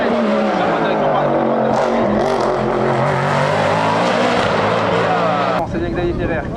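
A race car drifts through a change of direction at the Bagnols Sabrans hill climb, its engine roaring loud and steady with gear-shifting revs while a commentator talks over the PA throughout.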